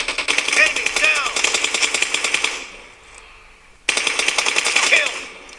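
Automatic gunfire in PUBG Mobile, loud rapid bursts of shots rattling continuously, pausing for about a second before resuming, with game voice prompts mixed in.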